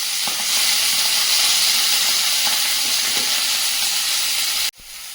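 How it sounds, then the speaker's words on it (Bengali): Prawns fry in a pan with dried red chillies, giving a steady, close, hissing sizzle that cuts off abruptly near the end. "চিংড়িগুলো ভেজে নেব।"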